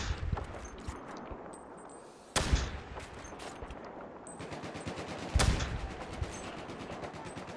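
Gunfire from the video game Battlefield 4: sharp shots and bursts crack repeatedly over a busy background, with two louder impacts standing out amid steady, mid-distance firing and no talk.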